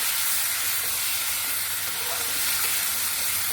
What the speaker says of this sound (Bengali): এই যে আলুটাকে আমি কষিয়ে নিচ্ছি